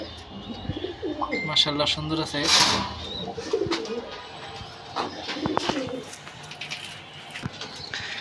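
Pigeons coo and flutter in a rooftop loft among pairs of black and racing birds, the coos close and mixed with chirps and wing sounds while someone talks over them.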